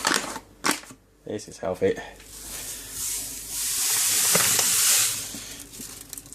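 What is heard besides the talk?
pouring a kilogram bag of sugar into brew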